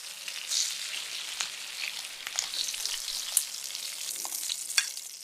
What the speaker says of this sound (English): Fry for 7 minutes on each side.